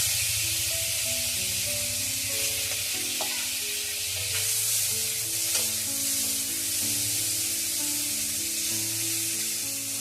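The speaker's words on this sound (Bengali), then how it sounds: "একবারে তো সব ভাজা যায় না, তো আমি আবার ভেজে নিচ্ছি।" Fish sizzles in hot oil in a pan, a steady bright hiss lasting throughout beneath a soft background melody, with occasional faint stirring clinks.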